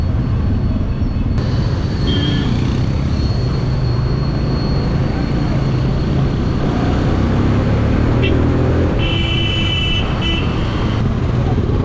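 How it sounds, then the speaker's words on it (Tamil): Heavy road traffic at the Nava India signal junction in Coimbatore, India: a loud, continuous roar of engines with horn toots rising above it and a voice talking under the din. "எவ்வளோ டிராஃபிக்காக இருக்குதுங்க பாருங்க இது வந்து நவ இந்தியா சிக்னலு பாருங்க எவ்வளோ டிராஃபிக்காக இருக்கு"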